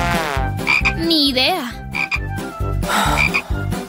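A frog croaks in a rapid, regular series of low pulses, with a short spoken exclamation and warbling tones breaking in midway before the croaking resumes.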